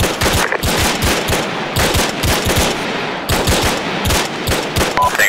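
Rapid machine gun bursts crackle in Arma 3 co-op play, loud, close volleys in several runs with brief gaps and a heavy, sustained rattle throughout.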